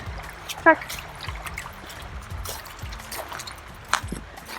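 Water sloshes and splashes as someone wades through shallow water outdoors at Lake Leatherwood, with a couple of sharper splashes over a steady breezy background.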